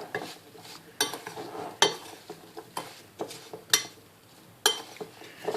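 Small pieces of butter being mixed into an apple strudel filling in a bowl, heard as a series of close utensil clinks and scrapes spaced about a second apart over a soft background, with no talking.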